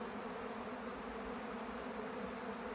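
Honey bees buzz in a dense, continuous hum around the hives on an August day, faint and even with no pauses and no voices.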